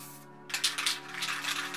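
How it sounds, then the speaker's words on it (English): Black Rust-Oleum spray paint hisses out through a spray cap in a short, close burst of uneven bursts after a brief quiet start, with faint background hum beneath. "I'm just going to pull some of the paint through the cap"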